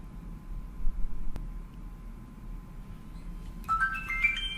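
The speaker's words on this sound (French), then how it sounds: "j'ai reçu mon petit SMS" A phone's SMS notification tone chimes near the end, a short bright electronic melody of a few notes after near-silence with faint room noise and a single click earlier.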